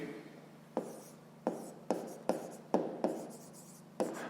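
A pen writes numbers on paper, close and quiet, with a regular series of sharp tapping strokes about every half second over a faint background hum.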